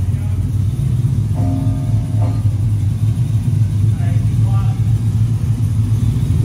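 A supercharged 427 GMC truck engine with full stainless exhaust rumbles loudly at idle with a deep exhaust note, rising slightly in revs, while people talk over it.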